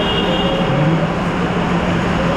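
A Darjeeling Himalayan toy train pulls out of a station on the route toward Kurseong, producing a loud, continuous rail rumble with steady tonal whine and no break across the stretch.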